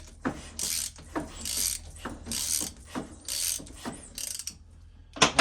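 Ratchet wrench snugging bolts on a Harley-Davidson Street Glide motorcycle, loud close clicking strokes in repeated bursts of several seconds, with short pauses between pulls and no speech.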